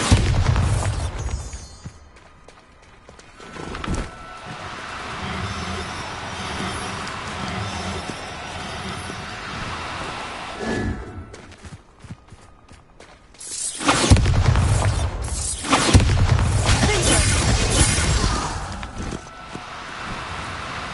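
Bombarda spell blasts from the Hogwarts Legacy video game, heavy booming bursts with a rushing roar, loudest in a dense barrage near the end.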